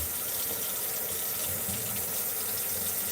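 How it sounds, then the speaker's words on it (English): Steady stream of tap water running into a kitchen sink while raw butterflied shrimp are rinsed, a continuous broadband splashing hiss that holds close and even throughout with no talking. "I highly, strongly suggest that you always rinse off your shrimp"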